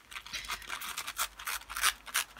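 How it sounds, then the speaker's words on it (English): Scissors snip through old vintage sewing pattern paper in a quick series of short, crisp cuts, close and fairly quiet with no talking. "I'm going to use those scissors"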